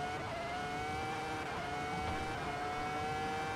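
A 2004 Formula 1 car engine lapping Nuremberg in the Assetto Corsa racing game, a steady high-pitched whining drone held at near-constant pitch with no talk.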